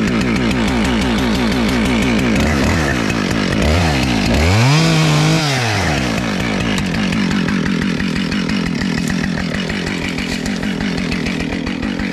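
A chainsaw roars loud and close while cutting during tree felling, its engine pitch rising and falling as the throttle opens and eases, then holding a steady high rev through the cut, with no talking.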